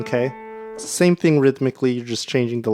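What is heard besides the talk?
No everyday noise stands out behind the speech.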